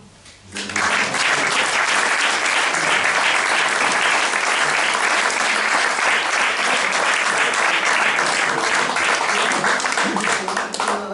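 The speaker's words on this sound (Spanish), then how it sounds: "El aplausímetro está como nunca." An audience at an Asturian poetry recital breaks into applause, dense sustained clapping that swells in within the first second and carries on loudly and evenly to the end.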